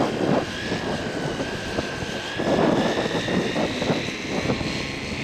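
Electric scale model airplane taking off at a scale aircraft show, a faint, steady motor whine with gusting wind noise, heard from a distance.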